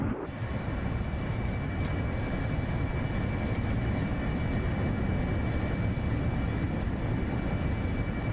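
Roaring F-35B Lightning jet engine held at maximum throttle in Microsoft Flight Simulator 2024, a steady, dense broadband rumble with a thin high whine running unbroken and loud throughout, no voices.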